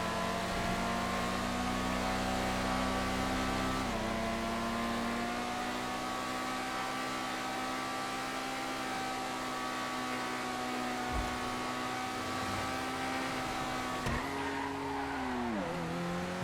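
The PR4 off-road race car in a GTA FiveM race screams at high revs, its engine pitch dropping with each gear shift, with brief tire squeal as it pushes on continuously and up close.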